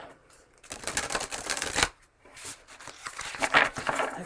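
Tarot cards being shuffled by hand in two close, crisp bursts of riffling and slapping separated by a short pause, with no talking.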